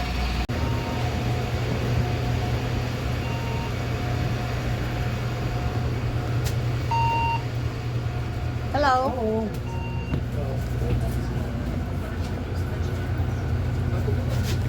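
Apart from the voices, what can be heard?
bus pulling in at Rotterdam bus station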